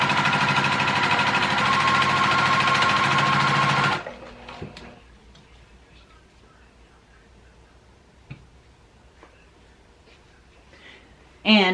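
A home sewing machine stitches tulle for a dinosaur tutu, running in a loud, steady, fast whir for about four seconds before stopping, followed by quiet handling and a faint click at the end.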